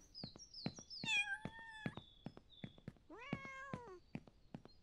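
Cats meowing in the Ranch Simulator video game: a rapid series of close, clear meows and short chirps overlaps, including a couple of longer rising calls, with brief pauses between bursts.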